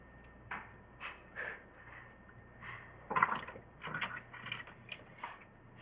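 Air is blown through a straw into a toy submarine sitting in water, making a series of short, soft bubbling bursts in an irregular rhythm, close by, with no talking.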